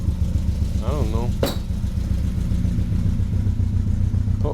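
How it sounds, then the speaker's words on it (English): 1967 Triumph Spitfire MK3 engine idling close up, a steady low rumbling throb with a brief squeak and a short sharp click partway through. "I think she idles great actually."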